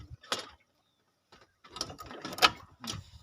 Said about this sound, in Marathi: रोटर फिरवा जरासं